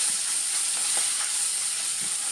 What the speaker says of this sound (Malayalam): നല്ലോണം എണ്ണയ്ക്കകത്തൊന്ന് മൂപ്പിച്ച് മസാലയൊക്കെ നല്ലോണം മൂത്ത് കിട്ടിയിട്ടുണ്ട്